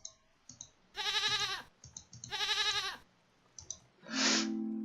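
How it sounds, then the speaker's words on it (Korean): Two loud goat bleats rise out of light clicking, followed by a short synthetic tone, in the video game Rusty Lake Paradise; the sounds are clean and close. "염소"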